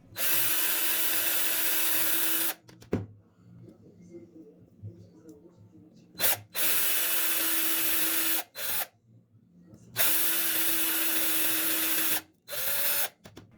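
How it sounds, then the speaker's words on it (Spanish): A power drill whirs in several steady bursts of a few seconds each, boring into a die-cast Hot Wheels toy car, separated by quiet gaps with faint handling noises. "Así es como debe de hacerse, en una perfecta vertical, para que el taladrado sea más firme."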